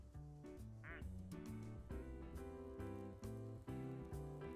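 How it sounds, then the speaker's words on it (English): Rubber ducks quacking in the video game Placid Plastic Duck Simulator, steady overlapping quacks in a rhythmic, almost tuneful pattern that repeats throughout, fairly faint against the game's sound with no talk. "Look at all these"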